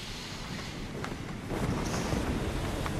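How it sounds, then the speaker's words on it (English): Wind gusting across a desert golf course, a steady rushing roar with buffeting on the microphone that swells louder partway through, with no voices. "the wind is swirling"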